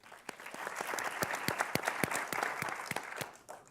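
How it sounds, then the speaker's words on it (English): Applause from a conference audience at a Hispanic leadership summit panel: steady, moderately loud clapping from many hands, with a few sharper individual claps standing out, lasting a few seconds. "A round of applause for Sandra, please."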